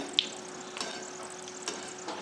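Grated coconut fries in oil in a kadhai while making poha chivda, a soft, steady sizzle with a few faint clinks of stirring, quiet and close.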